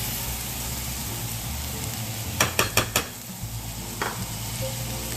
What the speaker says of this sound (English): we're going to dump some onions in there